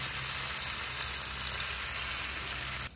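Bacon frying on a Kamado Joe grill with the dome open, a soft, even crackling sizzle with faint pops, steady and fairly quiet throughout.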